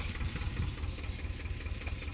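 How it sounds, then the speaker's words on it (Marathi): A tractor engine idles steadily nearby with a low, rumbling thrum and faint knocking, continuous throughout with no voices. "ट्रॅक्टरच्या आवाजानं माझा आवाज येत असेल का"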